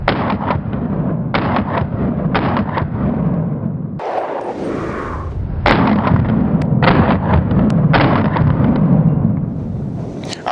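Repeated loud, sharp reports from a 9mm subcompact G43X pistol with an Arc Reactor slide firing Ultimate Ammunition Blue Line 90 grain +P rounds, shots coming in quick bursts with brief pauses between strings.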